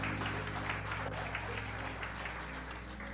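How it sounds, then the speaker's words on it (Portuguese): A church congregation applauds in a steady, dense wash of clapping that holds at an even level for several seconds, heard from within the crowd with no distinct voices. "Você pode aplaudir Jesus pela vida deles?"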